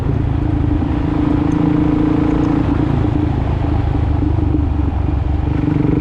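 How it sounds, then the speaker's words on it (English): A 2005 Suzuki DRZ400SM single-cylinder motorcycle idles with a loud, raw straight-pipe exhaust, a steady low thumping rumble close by throughout. "you can hear how loud that exhaust is"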